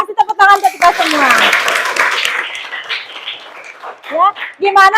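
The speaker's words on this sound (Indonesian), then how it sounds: "kasih tepuk tangan untuk kita semua" Students in a school guidance session applaud for a few seconds, a dense patter of clapping rising between stretches of a woman's speech that precede and follow it.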